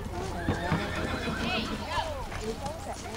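A horse whinnies and neighs repeatedly nearby while its hooves clip-clop, with people talking over the sounds throughout.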